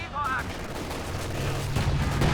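A Walking Stuka rocket barrage in Company of Heroes 2 lands in a dense, rumbling string of blasts and crackling impacts, building in loudness over a couple of seconds beneath a commentator's talk.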